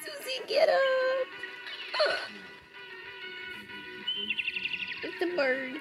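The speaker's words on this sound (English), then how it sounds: "It's the bird." Short bird-like chirps and tweets from a Deltarune Jevil boss fight, heard in scattered bursts with a rapid trill near the end, mixed with game effects and a child's whimpers.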